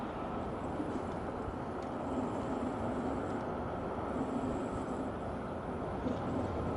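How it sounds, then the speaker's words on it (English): A Begode Future electric unicycle's motor strains while accelerating, heard as a continuous rumbling whine mixed with wind and road noise, steady and fairly loud with no talking. "as I'm picking up speed, like I feel the motor like grunting at me"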